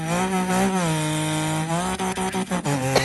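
A voice mimics a GT sports car engine: a close, loud, sustained buzzing drone that drops in pitch, then breaks into choppy revving pulses before a final high burst.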